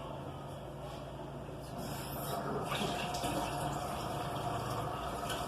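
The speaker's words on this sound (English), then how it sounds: "And then we're gonna add our hot water into there." Hot tap water running and pouring into a pan around a cake-and-flan dessert, a steady rushing fill that grows slightly louder midway, close by with no talking.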